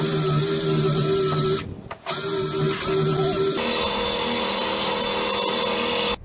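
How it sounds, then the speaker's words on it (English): A wood lathe runs steadily while an ash and Brazilian cherry segmented bowl is sanded, with a brief dip in the motor drone partway through before the whirring resumes, close and loud. "But first I'm going to sand this portion up right here."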